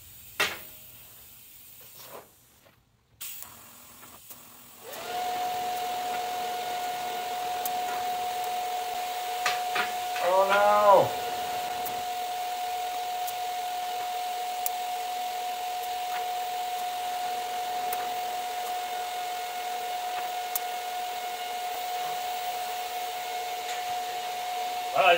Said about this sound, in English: I'm going to weld it up all the way around.